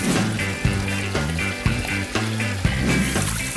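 Water pushed under pressure into a container outdoors in the wild, a steady broadband rush with repeated rhythmic surges and gurgles, fairly loud and close with no talking.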